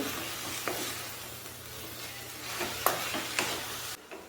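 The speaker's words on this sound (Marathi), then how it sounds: "यामध्ये आता चवीनुसार मीठ टाकून मिक्स करून घेऊ।" Fenugreek leaf bhaji is stirred with salt in a pan over a low hum. Soft sizzling is broken by a few light scrapes and taps of the spoon, and the sound stops abruptly at the end.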